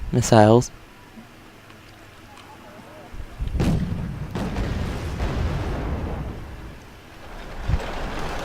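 Rocket and missile fire in Wargame Red Dragon: a sharp rising whoosh opens, then a heavy boom follows a few seconds later and trails into a rolling rumble, with another thump near the end.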